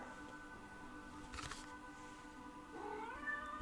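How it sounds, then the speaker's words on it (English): A house cat lets out a drawn-out, wavering meow, faint and somewhat distant against a quiet room, rising toward the end. "Oh, hello. It's my cat."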